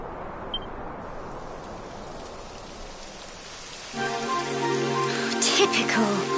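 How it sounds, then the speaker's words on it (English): Steady rain hisses across a scene in the video game Dragon Quest XI, a dense even wash that is soon joined by a sustained tonal music bed and a few brighter clicks near the end. "It would have to go and start raining, wouldn't it?"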